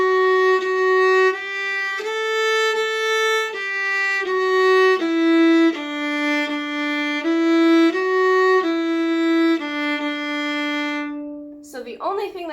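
A bowed string instrument plays the second half of a short beginner scale exercise, a slow series of sustained, clearly separated notes ending in a final held tone, followed by a brief voice at the end.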